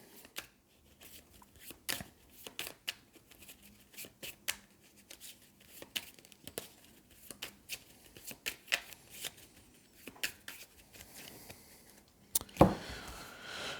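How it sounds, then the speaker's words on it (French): Cards for the Marvel Champions card game being shuffled by hand in quick, close, repeated riffles and flicks, with a louder shuffle burst near the end, no talk. "Et hop, je remélange ça."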